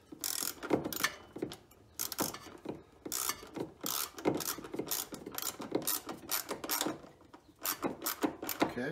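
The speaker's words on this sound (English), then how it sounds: "all I'm doing is screwing the bolt back in on the back of the air cleaner for the vibration" A wrench ratchets a bolt back into the rear of a Champion 9000-watt generator's air cleaner, with steady repeated clicking strokes, close and fairly loud, continuing for several seconds without talk.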